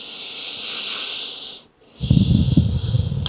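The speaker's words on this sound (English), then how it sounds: "Taking a few deep breaths here." A long, airy exhale of deep yoga breathing fades to a brief silence, then a fuller, rougher breath follows, close and alone with no talking.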